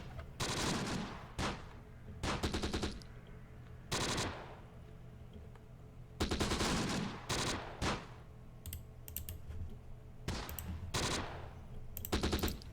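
Machine gun fire in the Close Combat: The Bloody First war game, sharp bursts of rapid automatic shots coming in repeated clusters with brief gaps between them, loud and close with no voices.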